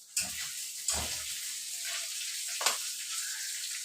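Dried fish frying in a pan, a soft continuous sizzle broken by three sharp clatters of handling or stirring, close and fairly quiet.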